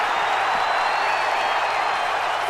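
A wrestling crowd in a WWE 2K video game roars in a steady, dense wash of cheering and applause, loud and continuous throughout, with no distinct voices standing out.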